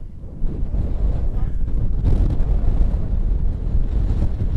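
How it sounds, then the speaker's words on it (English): Strong wind on a Shropshire hilltop buffets the microphone in a steady, roaring rush, loud and continuous throughout. "It's quite windy up here"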